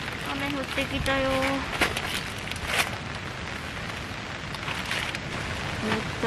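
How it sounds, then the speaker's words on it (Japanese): Rain falls steadily at a campsite, a dense hiss of drops on tent fabric and surroundings, with someone speaking and a few brief tones over it. "雨降ってきたよ。"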